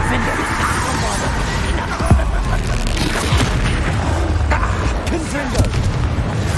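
Bombarda spell explosions in the game Hogwarts Legacy go off as several deep booms amid battle noise, with a voice calling out spell names over the combat.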